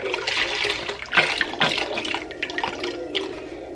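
Canned store-brand bone broth pours and splashes into a pot in a home kitchen, a steady liquid gurgle with uneven glugs and splatters, close and fairly loud, with no talking.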